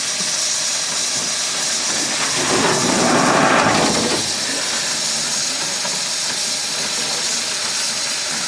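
A loud, continuous hiss of escaping steam from a steam locomotive being prepped for an excursion, swelling briefly in the middle before settling back to a steady roar.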